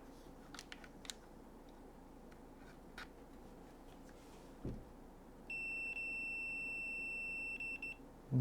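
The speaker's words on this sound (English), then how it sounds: "Continuity function, the beep is quite quiet on it." A Klein Tools clamp meter on its continuity setting gives one steady, fairly quiet electronic beep lasting close to three seconds, over faint background hiss and scattered light clicks.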